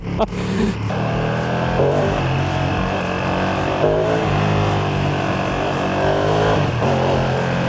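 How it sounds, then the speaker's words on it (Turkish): Ducati V2 motorcycle engine held at a steady, loud idle-to-light-throttle rumble with small blips of gas, a continuous close-up mechanical drone with no talk. "bakın ufak bir gaz vereceğim. Bak azıcık veriyorum"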